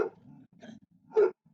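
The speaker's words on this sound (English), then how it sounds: "My puppy dog's gonna bark because someone's walking by our house" A puppy barks at someone walking past the house, giving a short sharp yip, then a softer whimpering bark and a louder final bark, close and indoors.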